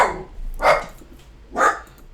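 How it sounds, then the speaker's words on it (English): A dog barks twice indoors, each a loud single bark about a second apart, with a quieter yelp at the start and a low background hum. "My dog decided to see something and go crazy."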